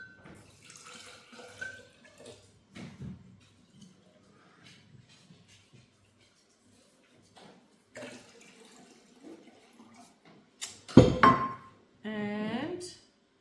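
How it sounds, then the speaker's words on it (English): Two cups of clean, chlorine-free water poured into a container, a short, loud splashing burst near the end after a stretch of quiet speech. "2 cups of water goes in here."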